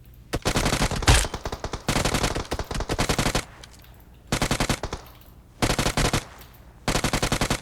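A UMP submachine gun in a video game fires in five or six rapid, loud bursts, each about a second long, separated by short pauses.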